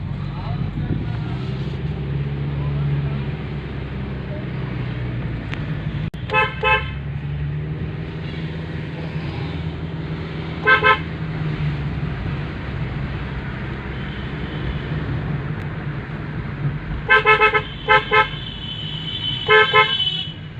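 A car horn toots repeatedly on a winding road in the Kolli Hills, short honks in clusters over a steady engine drone, with people talking inside the vehicle.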